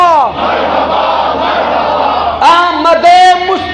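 A large crowd at a religious gathering chants a slogan in unison, a loud sustained roar of many voices that rises in pitch and intensity near the end.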